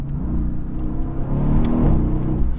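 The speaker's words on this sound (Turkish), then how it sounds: "Çok güzel hızlanmıyor mu araba?" A Mercedes AMG GTS accelerates hard from inside the cabin, its deep engine rumble building steadily and growing louder over a few seconds, with no talking.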